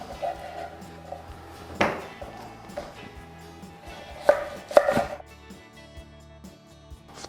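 A knife slicing through beef oxtail on a board, giving a few sharp, separate cuts and taps, one near the start and a close pair later, over a quiet kitchen background.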